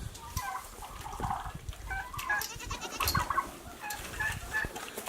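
Goats on a small farm at milking time, bleating repeatedly at mid distance, with clucking chickens mixed in and no talk over them.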